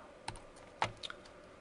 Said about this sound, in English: I wish I could see what I was typing